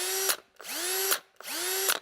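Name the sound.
cordless drill tightening with rattle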